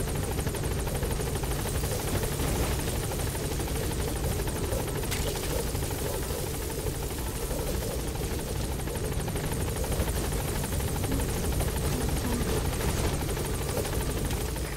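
A helicopter in Metal Gear Solid V: The Phantom Pain drones in a steady, loud, continuous rotor rumble throughout, heard close and without any voices.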